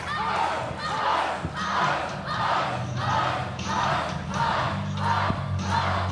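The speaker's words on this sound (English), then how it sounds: "Beastman rallying this crowd with a war cry" Masked wrestler Beastman bellows a war cry to rally a wrestling crowd, a chant-like roar pulsing in repeated bursts roughly once a second, with the arena audience answering loudly around it.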